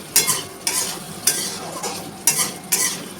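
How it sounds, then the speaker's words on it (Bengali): Masala for a rohu fish dish frying in a pan, stirred with a utensil in repeated scraping strokes over a steady close sizzle, with no talking. "মশলাটাকে ভালো করে ভাজা করবো।"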